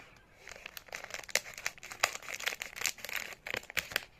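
Scissors cut open crinkly plastic packaging holding candy, with close, dense crackling and snipping rustles throughout and no talking.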